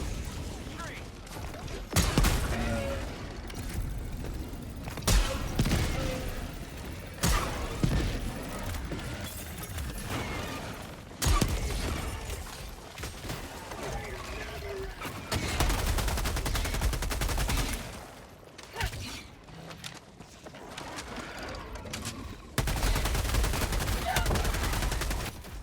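An automatic turret in a sci-fi shooter game fires long rattling bursts of gunfire, loud and near, broken by brief pauses and mixed with game explosions and mechanical noise.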